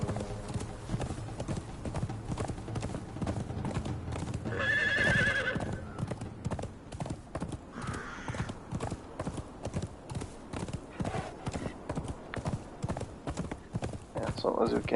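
Horses in the video game Conan Exiles on the Isle of Siptah, hooves clopping in a steady rhythm with a clear neigh partway through, someone talking over them.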